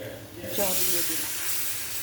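Water poured into fried masala of cumin, chilli, turmeric and salt for Tilapia fish curry hisses up loudly and keeps up a steady broad hiss and sizzle.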